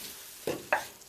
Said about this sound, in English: Fry the peppers